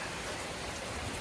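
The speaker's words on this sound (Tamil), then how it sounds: "அதுவும் பெரிய பெரிய மழை துளிகள் பெய்யுது" Heavy rain with big drops pours down in Chennai after the sky suddenly darkens, a dense, steady close patter of drops on surfaces that continues unbroken, with no speech over it.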